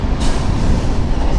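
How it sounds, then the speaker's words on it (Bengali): A train rushes past at close range, the second in quick succession, as one loud, continuous broadband roar and rumble that fills the whole moment. "একটা ট্রেন যেতে না যেতে আবার একটা ট্রেন।"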